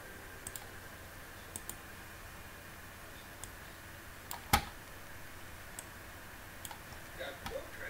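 Sparse clicks from a computer mouse, single sharp taps scattered irregularly over a quiet hiss, one louder click in the middle.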